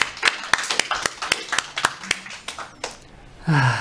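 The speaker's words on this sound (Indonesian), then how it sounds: "Beri tepuk tangan buat nama Tuhan Yesus." A church congregation claps hands in praise, sharp individual claps in a loose, fairly regular rhythm over several seconds, ending as a voice begins.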